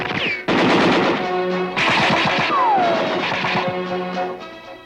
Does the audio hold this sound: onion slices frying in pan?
no